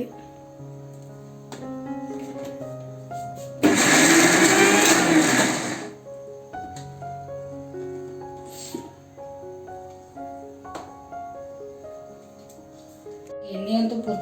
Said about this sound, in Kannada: ಇದೆಲ್ಲ ಬೆಳ್ಳುಳ್ಳಿ ಅದಕ್ಕೆ ಇದು ಮಿಕ್ಸರ್ ಮಾಡಿಬಿಡ್ತೀನಿ